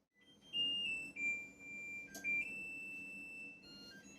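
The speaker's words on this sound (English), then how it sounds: "timer's gone off" A kitchen timer going off while a devil's food cake bakes, giving a faint steady electronic tone that steps between pitches and briefly breaks, heard alone over low room noise.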